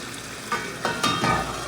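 Spiced curry frying in a pan, a short burst of close sizzling hiss with several quick stirring scrapes as the masala cooks down.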